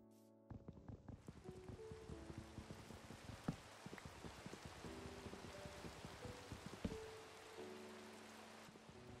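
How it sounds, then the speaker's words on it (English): Minecraft rain patters as a quiet, continuous hiss of droplets, with low game tones and scattered clicks and blocky thuds on top, all faint and without speech. "it's already raining."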